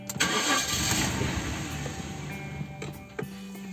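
A Jaguar XJ40 engine cranks with a loud whirring starter and catches, then settles into a steady idle, close and alone with no talking.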